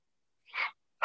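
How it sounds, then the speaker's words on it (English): A powerful exhale forced out of the mouth during yoga breathing, a single breathy whoosh, close and clear, followed by the start of another breath at the very end. "with your powerful exhale out of the mouth, you'll jab the elbows back, exhaling out of the mouth"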